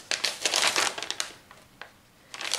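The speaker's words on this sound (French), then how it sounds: "je vais essayer de mettre ça dans l'enveloppe" A small paper box is pushed into an envelope with close, crisp crinkling and rustling bursts, a brief pause, then more rustle near the end.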